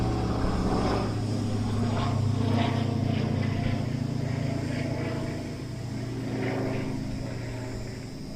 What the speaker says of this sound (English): Got a World War II plane with a bad engine